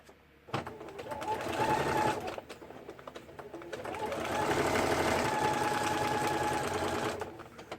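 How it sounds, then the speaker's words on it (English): A sewing machine rocking on an unsteady surface runs in two bursts, a short run then a longer one, with a fast mechanical whir and rattle, close by, with no talking. "the sewing machine is on top of something that's making it rock"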